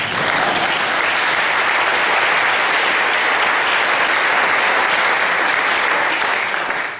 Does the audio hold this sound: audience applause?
yes